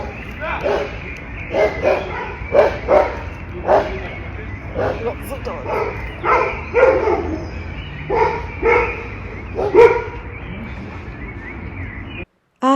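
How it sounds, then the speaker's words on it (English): Several dogs bark on an outdoor street near a calisthenics workout area, a lively run of repeated yips and barks in uneven clusters at moderate distance over steady background noise. "Lots of dogs."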